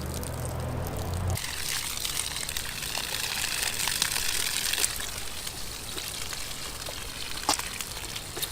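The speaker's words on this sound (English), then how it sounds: "I'll turn it on. Let it run a few seconds. Get the hot water out of the line." After a brief low hum, water starts gushing from a garden hose and keeps running steadily, a constant splashing hiss close by with a few small clicks.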